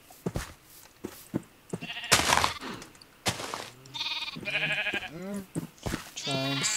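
Sheep in a video game bleating in several wavering calls close by, mixed with brief bursts of game noise and sharp effects, with a voice talking in places.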